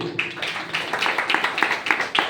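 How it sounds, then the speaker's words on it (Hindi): Audience members at a seminar in Ahmedabad clap, giving a loose run of sharp, distinct hand claps at an uneven rhythm. It sounds like a modest group of people rather than a roaring crowd, and no one speaks over it. "जिन लोग ने हाथ उठाया उनके लिए पर जबरदस्त ताली"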